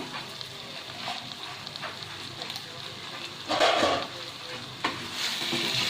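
Pointed gourd and potato pieces are stirred with spices in a pan after being covered for a few minutes, giving a steady low sizzle broken by scraping and clatter from the spoon, with one louder burst of stirring midway.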